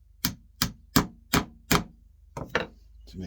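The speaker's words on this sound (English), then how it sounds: "Get my hammer." A hammer taps on a white guitar body part with 3.5mm drilled holes, striking five evenly spaced sharp knocks, then two or three quicker, softer taps, close and clear with no talk.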